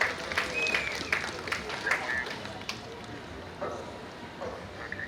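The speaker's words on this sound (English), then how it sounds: "Let's give her a round of applause." Brief applause from a conference audience at a mosque gathering, scattered clapping that swells early and then thins into fading hand claps amid room noise, with faint whistle-like tones.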